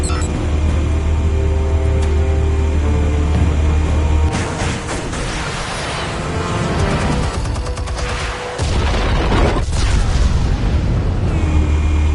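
Heavy explosion blasts in the Batman: Realm of Shadows video game, a loud sustained rumbling boom with crackling debris and rolling aftershocks over a dense game soundtrack, dipping briefly before the roar returns.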